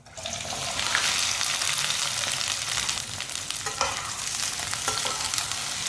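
Chopped okra frying in a pan, a dense, loud, continuous sizzle with occasional stirring scrapes, close up and steady throughout, no voices.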